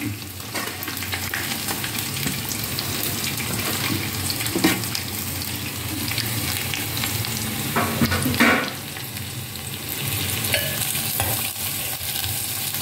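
Onion, curry leaves, green chilli and ginger sautéing in a pan for potato masala with poori, giving a loud continuous sizzle with occasional stirring scrapes throughout and no talk.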